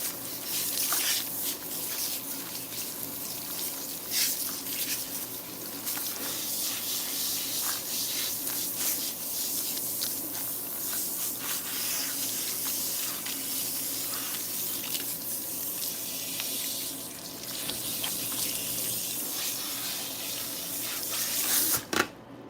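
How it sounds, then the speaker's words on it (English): Water running from a salon sink sprayer while rinsing a client's hair, a steady broadband hiss and splash lasting over twenty seconds, close and continuous with faint rubbing. "All right, so we're gonna go ahead and rinse her off."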